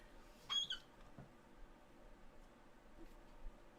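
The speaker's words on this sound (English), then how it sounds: "The squeaky, that's the ball." A squeaky toy ball gives one short, sharp squeak early on, then only a faint, quiet room hum remains.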